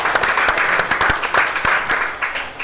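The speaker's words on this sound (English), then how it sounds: "Clap, clap, clap." Audience clapping at a live final-day event of a Nigerian genius competition, a moderately loud crowd of hands with a few distinct sharp claps standing out in an uneven rhythm.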